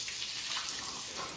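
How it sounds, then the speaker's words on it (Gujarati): Water poured out indoors, a steady splashing rush that runs without a break at close range, with no voices over it. "પાણી ઢોળવું પડે ને"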